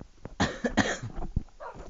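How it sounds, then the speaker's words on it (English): A person coughs several times in a short, close burst of harsh, throaty bursts, with no other sound around it. "I seem to have a bit of a cough all of a sudden"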